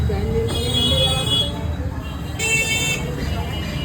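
Car horns honk in a traffic jam on a crowded street during a Ganga puja fair in Bengal. Two drawn-out horn blasts rise over rumbling road noise while people talk nearby.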